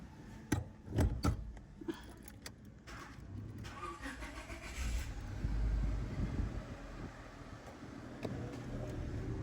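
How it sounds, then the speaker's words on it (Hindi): A Honda Civic engine cranks and catches after a few sharp clicks, then idles and pulls away at close range, low and steady, following a master cylinder replacement. "गाड़ी को स्टार्ट करते हैं और बाहर निकालते हैं इसको।"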